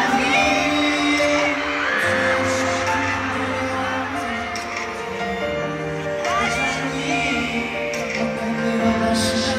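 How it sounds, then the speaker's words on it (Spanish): A large concert crowd at a show in Santiago, Chile screams and cheers continuously, with high shrieks and whoops rising over a dense roar and music in the background. "Aplausos a NCTzen."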